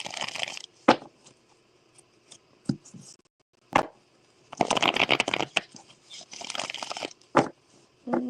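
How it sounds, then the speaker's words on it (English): Tarot cards being shuffled by hand, several close, crisp bursts of riffling and flicking separated by short quiet pauses, with no talking over them. "Let's get some more shuffles in."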